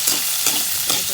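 Chili stir-fried in oil for a Chinese-style egg-coated tofu dish, giving a steady sizzling hiss broken by a few brief scraping stirs, loud and close, with no voices.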